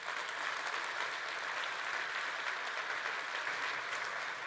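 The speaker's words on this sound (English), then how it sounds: "So if we can all give them a big round of applause" A large audience at a DevOps World / Jenkins World 2019 conference keynote claps steadily, a fairly soft, continuous patter of many hands heard alone.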